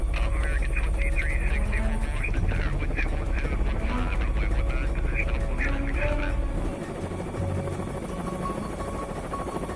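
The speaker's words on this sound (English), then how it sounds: "One helo heads straight for the landing pads." A presidential Marine One helicopter approaches the landing pads, its steady loud rotor and turbine drone filling the scene, with voices talking over it.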